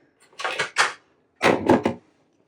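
Two quick double-clicks of a stapler pressing through a paper tag, close and crisp against silence, the second pair following a short pause.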